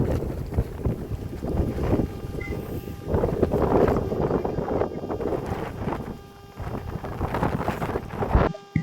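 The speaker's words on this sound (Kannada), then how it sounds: "ಗಾಳಿ ಕೇಳಿಸ್ಕೊಳ್ಳಿ" Strong gusty wind sweeps across the summit of Kurinjal peak in the Kudremukh hills of Chikmagalur. Heavy buffeting rumbles against the microphone in uneven surges, easing briefly near the end and then rising again.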